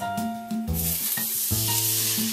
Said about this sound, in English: And to the pan, I'm going to add 1/2 cup of chicken broth.